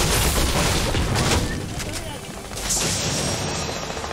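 AK rifle gunfire in a multiplayer shooter video game: dense, loud bursts of shots and booms, with a voice talking over the din.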